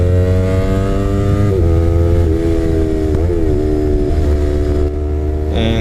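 A Yamaha R3 sport motorcycle engine revs hard at full throttle, a loud close buzzing drone with pitch rising and dipping through several quick throttle pushes, with no voices over it.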